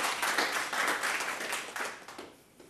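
Applause from a tech conference audience, a steady wash of many hands clapping that gradually fades out.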